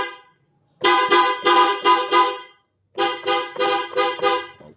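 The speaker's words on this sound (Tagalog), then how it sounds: "Original na PIA horn mga igan, ha." A PIAA aftermarket horn fitted to a Toyota Veloz sounds loud and close in two bursts of rapid, pulsing honks, four or five beeps each, separated by a short silence.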